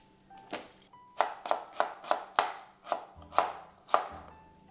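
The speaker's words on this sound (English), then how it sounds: "I'm gonna chop the yellow onion" A knife chops a yellow onion on a board, giving about ten crisp, close chops in an uneven rhythm, each a sharp tap with a short tail, and no talking.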